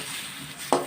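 A spoon stirs ground tomato into onions in a cooking pan, giving one sharp metallic clink against the pan near the end over a faint, quiet background.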